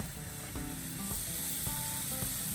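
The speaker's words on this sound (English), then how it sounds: "And listen to that sizzle." A teriyaki ribeye steak sizzles steadily on a hot charcoal grill with a constant hiss, plus a few soft thuds and scrapes.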